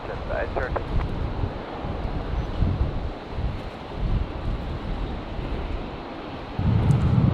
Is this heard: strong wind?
yes